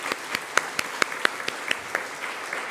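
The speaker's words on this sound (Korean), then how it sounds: "우리 자리에서 일어나실 때 박수로 한번 환영하도록 하겠습니다" A congregation at a Korean church's Sunday worship service claps in welcome for visiting missionaries from the Philippines, a light scattering of distinct claps over a steady wash of applause.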